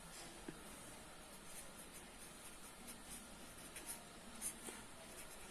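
Chalk or marker scratching across a board during a maths lesson on exponents, a faint, quiet series of short strokes and taps with no talk.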